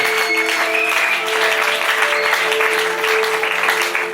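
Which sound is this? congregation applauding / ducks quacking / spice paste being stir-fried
congregation applauding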